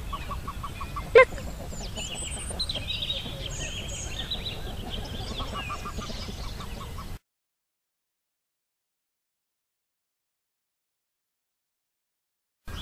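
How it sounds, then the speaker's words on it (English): Farm chickens clucking in a steady stream with a brief louder squawk near the start, moderately close, before the sound cuts to silence partway through. "They are chickens. They lay the eggs for children to eat. They goes cluck,"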